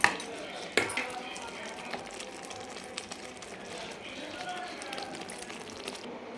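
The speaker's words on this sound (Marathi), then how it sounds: "हे कोथिंबीर टाकते आणि छान मिक्स करायचं" Cashew curry with freshly added coriander is stirred in a pan on a home stove, a spoon scraping and clinking against the metal in an uneven rhythm, with a sharper knock near the start.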